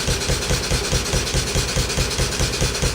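A Stuart No1 stationary engine thumps steadily at a fast, even beat, with a knocking pin and a constant mechanical clatter close by.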